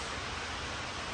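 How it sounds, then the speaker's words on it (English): Steady, dense hiss of rain pattering on a farmhouse roof, soft and even with no other sounds. "that's rain hitting the house"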